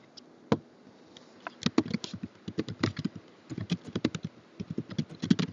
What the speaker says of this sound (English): I should just type this, it'll be easier.